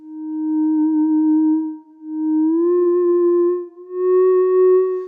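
The Thereminator 2 theremin app on iOS plays its sine wave voice: three sustained pure tones separated by brief gaps, each gliding slightly upward in pitch, clean and loud with no talk.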